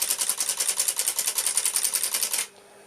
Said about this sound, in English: If I now press the rewind button, you'll see this solenoid close and change the position of these switches, and it'll reverse the stepper motor.